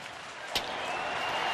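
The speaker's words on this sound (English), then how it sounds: "A little bit of a murmur from the crowd" A low, steady murmur rises from the crowd at a Phillies home baseball game against Atlanta, faint and distant, with one brief sharp knock partway through.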